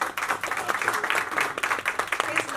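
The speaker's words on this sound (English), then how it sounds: "So one round of applause for him." An audience at a star-studded media cover launch event gives a brief burst of applause, with steady clapping from many hands and speech heard over it.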